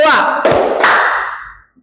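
Two crisp hand claps, evenly spaced, sound close by in an Indonesian classroom clapping game, right after a short spoken call, with a fading room echo.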